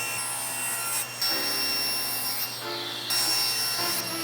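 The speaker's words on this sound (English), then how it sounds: "I'm going to cross cut a piece off this board and get the top and bottom blocks" A saw cross-cuts a piece from a half-inch plywood board to make blocks for a house-number sign. Close, loud, continuous cutting noise runs throughout, briefly dipping a few times as the cut eases off.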